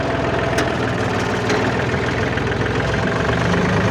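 A tractor engine idles with a steady, loud, broadband rumble and faint knocking, continuous and close, with no voices.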